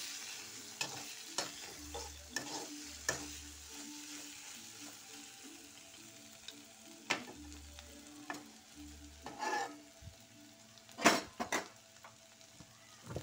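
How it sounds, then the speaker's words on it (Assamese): Fiddlehead fern greens frying in a pan while a utensil stirs them, giving a low continuous sizzle broken by repeated scraping and clinking strokes, with a few louder clatters of cookware toward the end. "আৰু এয়া এতিয়া ঢেকীয়া ভাজিখিনি হৈ গ'ল"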